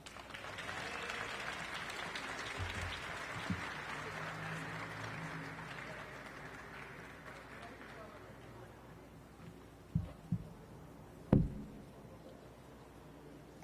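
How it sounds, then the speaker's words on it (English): Light applause rises briefly from a crowd at an outdoor Latino Heritage Month celebration, then thins into background murmur and voices, with a few sharp knocks near the end. "Another round of applause for Sonia."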